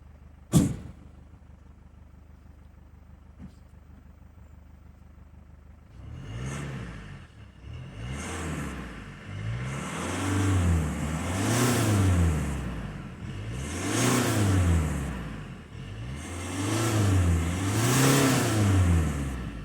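2016 Mercedes C220 CDI AMG Line estate diesel heard at the exhaust: after a quiet idle and a sharp click, the engine is revved repeatedly, rising and falling in four or five swelling pulls, close and fairly loud.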